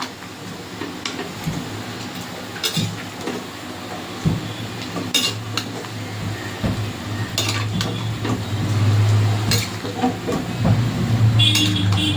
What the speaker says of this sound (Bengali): সবজিটা তুলে নেব জল ছেঁকে ছেঁকে তুলে নেবো